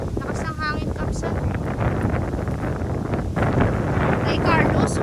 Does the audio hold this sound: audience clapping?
no